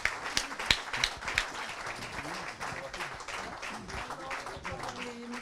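An audience applauds the care home team at a Fondation Korian event: steady, moderately distant clapping from a crowd, with a few sharper claps at the start and faint talk beneath.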